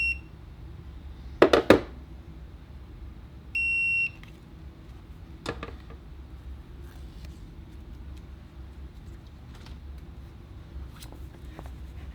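A heat press timer at 305 degrees gives one short, steady electronic beep after a couple of sharp clunks, then a quiet room with faint background hum.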